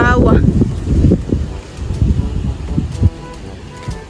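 Wind buffets the microphone outdoors on a hot day, a heavy low rumble that rises and falls in gusts throughout, with faint muffled sounds mixed in.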